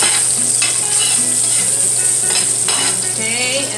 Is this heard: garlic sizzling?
yes